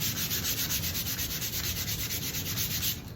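Rhythmic back-and-forth sanding of 1960s stained wood shells, a close, steady gritty rasp with regular strokes and no talking.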